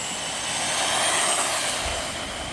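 A Tamiya MF-01X RC car on a speed run, a steady high electric whine that swells and fades slightly as it passes, with a low rumble from the run beneath.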